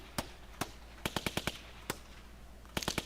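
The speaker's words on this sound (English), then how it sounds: "It's made out of gunshots. Gunshots are the beat." Sharp gunshot cracks used as a music beat, in an uneven rhythm: single shots, then a quick burst of several, a pause, and another tight cluster, moderately loud.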